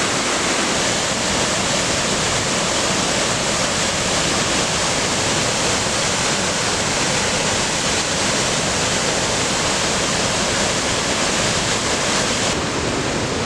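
A waterfall on the McKenzie River Trail pours with a loud, unbroken roar of rushing water, close by and steady throughout, with no voices.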